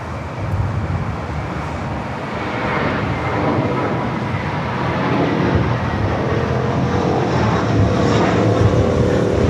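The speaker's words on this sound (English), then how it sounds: "JetBlue A321 rolling down at 25 right" A JetBlue Airbus A321 jet rolls down runway 25 right at LAX for takeoff, its engine roar building steadily louder and nearer across the whole stretch, with no talking.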